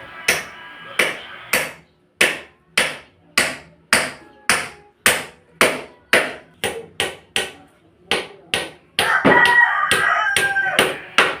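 A hammer drives nails into wood while building a chicken coop, giving loud, sharp, evenly paced strikes about twice per second. A rooster crows nearby toward the end, under the continuing blows.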